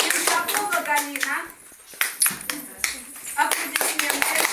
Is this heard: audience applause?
yes